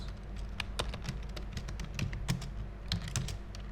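Fingers type an IP address on a computer keyboard in a steady run of close, crisp key taps with a few louder strokes, over a faint background hum and with no speech.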